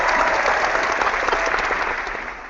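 Steady applause from a studio crowd fills the moment, loud and dense, fading slightly toward the end with no voices over it.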